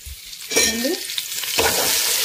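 Food sizzles and rattles in a pan as it is shaken and tossed, a steady frying hiss with scraping bursts, close and fairly loud.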